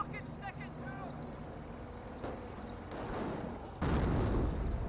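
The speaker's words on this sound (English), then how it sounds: "Mortar hit." Mortar shells from a World War II strategy battle in Company of Heroes thump down amid ongoing combat noise, with a heavy, broad impact blast near the end that swells louder than the rumbling background.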